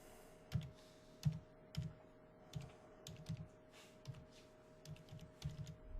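Close keystrokes on a computer keyboard as a database name is typed, irregular clusters of soft clicks spread over several seconds against a steady low hum.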